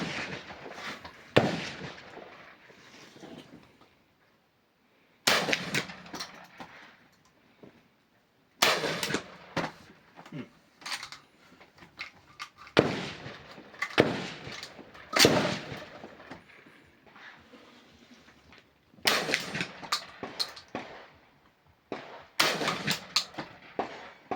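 Sharp pistol shots at a target crack out one after another at irregular intervals, each with a short echo and quiet pauses between them.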